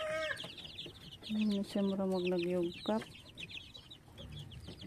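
Young chickens cluck and call close by, several short bursts and a longer run of clucks, with a voice speaking softly between them.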